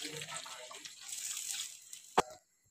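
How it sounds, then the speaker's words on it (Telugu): Water is poured into a pot of country chicken curry, a soft rushing pour that ends in a brief splash before falling silent. "ఇప్పుడు మనం వాటర్ పోసుకోవాలండి. ముక్కలు ములిగేదాకా వాటర్ పోస్తే సరిపోతుంది."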